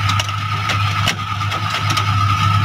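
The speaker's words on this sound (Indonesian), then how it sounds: "Oh, mesinnya halus." A 1997 Suzuki Carreta's engine idles steadily and loud at close range with a constant low hum, with a few light clicks and knocks over the running motor.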